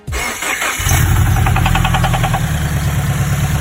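A Toyota GR86 engine cranks and fires up, settling into a loud, steady idle with a rhythmic knocking tick from a damaged connecting rod, close and without voices.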